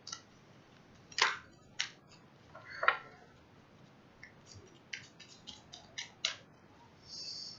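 Tarot cards are drawn and laid out one by one on a surface close by, giving a series of sharp snaps, flicks and soft slaps at irregular intervals, with no talking.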